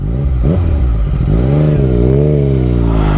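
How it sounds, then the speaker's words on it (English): A new motorcycle engine revving hard and continuously, a loud close-up drone whose pitch rises and falls with the throttle, with a rough clattering texture suggesting backfire pops. "you don't even need to rev too much and it's backfiring"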